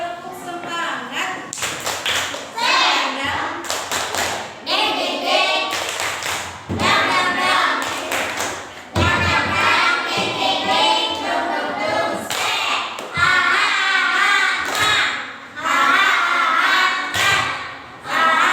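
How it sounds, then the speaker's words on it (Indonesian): Children in a classroom perform the 'tepuk semangat' spirit clap, a patterned run of sharp claps and slaps in bursts and pauses, mixed with young voices chanting along throughout. "Tepuk semangat."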